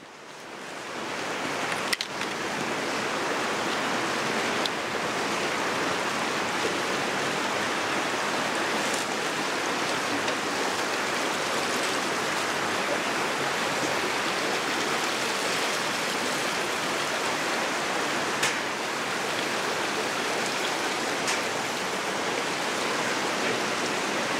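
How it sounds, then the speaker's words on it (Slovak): Crystal-clear water rushes through a narrow gorge at Jánošíkove Diery in November, a steady, dense, close whoosh of flowing stream that stays constant throughout, with a few faint clicks on top. "Kryštálovo čistá voda."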